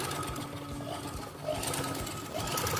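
A sewing machine runs smoothly after being oiled, its steady mechanical whirr with light rhythmic ticking continuing on its own at close range, briefly swelling louder midway and again near the end.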